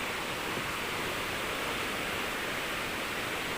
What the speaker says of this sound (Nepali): ठुलो भएछ, पुरा बढेछ खोला।